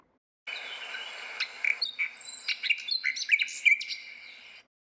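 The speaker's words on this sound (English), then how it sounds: "Nightingale." A nightingale sings a varied phrase of rapid chirps, whistles and trills over about four seconds. The song is close and clear, with no other sound behind it.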